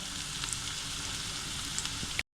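Chopped onion fries in a pan as it begins to brown, giving a soft, even sizzle that holds steady for about two seconds before cutting off abruptly.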